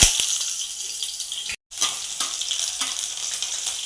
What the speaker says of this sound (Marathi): तेल चांगलं गरम झालं आहे तर आपण ह्याच्यामध्ये टाकणार आहोत अगोदर लसूण